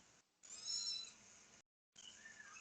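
A cat gives a couple of faint, drawn-out meows, separated by a brief silence, with no talking.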